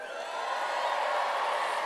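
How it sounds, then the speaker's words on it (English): Audience at a live Grand Ole Opry country music show applauding and cheering, a steady dense roar of clapping and whoops filling the room, loud and sustained without pause. "Let me hear it one more time. Big applause."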